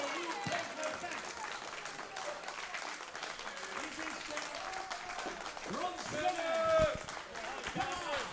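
Crowd applause at the World Classic Powerlifting Championships 2021, men's open 93 kg class, sustained clapping under an announcer's voice, swelling louder toward the end.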